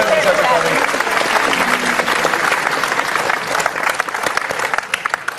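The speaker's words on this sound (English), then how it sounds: "Big round of applause for Chad, guys." Live studio audience at a talk show with a UFC fighter applauding loudly, a dense and sustained clapping that thins toward the end, with some voices mixed in.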